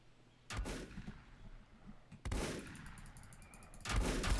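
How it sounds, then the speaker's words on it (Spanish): Gunfire in the video game Volcanoids comes in three loud, sharp bursts spaced a couple of seconds apart, each one cracking sharply and trailing off into rumbling echoes. "te estoy disparando"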